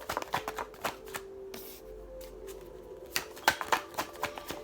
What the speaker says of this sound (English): So it might take me a minute just to shuffle these.